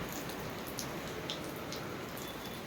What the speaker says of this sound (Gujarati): અચાનક એકદમ ફાસ્ટ વરસાદ ચાલુ થઈ ગયો.